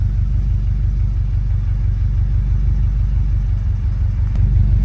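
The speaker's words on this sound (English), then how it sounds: "So now I have idle perfect." STI-swapped Subaru Impreza bugeye wagon engine idling steadily nearby, a smooth, loud, low rumble with an even pulse and no talk.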